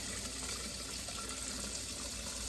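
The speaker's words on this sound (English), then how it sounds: "We're just going to put 12 ounces of warm water in the bottle." Warm water runs steadily from a tap into a baby bottle, a constant close, loud rushing fill with no talk over it.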